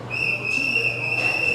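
A whistle blown in one long steady blast at a nightlife venue, loud and sustained with a slight swell near the end, no voices over it.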